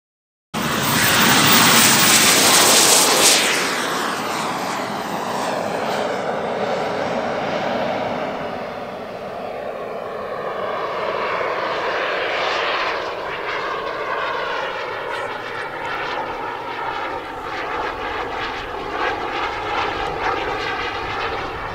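A radio-controlled jet aircraft engine at full throttle roars loudly and continuously, surging at first and then holding a steady, close, whining blast for over twenty seconds with no talking.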